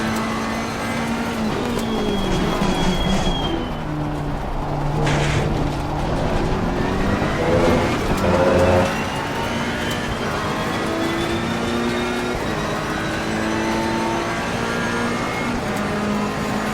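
A Ferrari 488 race car engine at Spa in the ACC racing game drones loudly and continuously, its pitch climbing through the gears and dropping on downshifts with a steady, close, in-car tone throughout.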